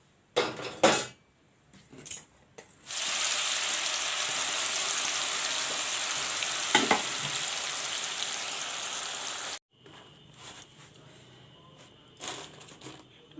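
Green banana chips sizzling in hot oil, a steady loud hiss lasting several seconds that stops abruptly, with utensil clinks and scrapes before and after.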